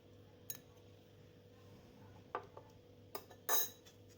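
A spoon stirs raisins into a roasted semolina filling for karanji, giving a few quiet, scattered metallic clinks and taps against the pan over a faint background hum.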